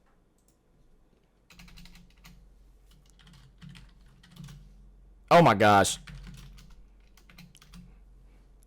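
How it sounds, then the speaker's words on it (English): Fast typing on a computer keyboard sounds as soft, rapid key clicks at close range. A person briefly exclaims over it partway through. "I'm typing too fast."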